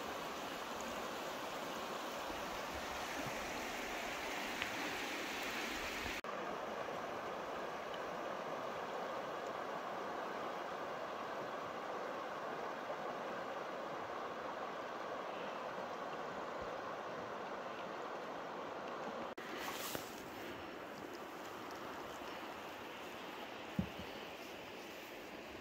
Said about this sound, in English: Awesome bunch of little waterfalls and rapids here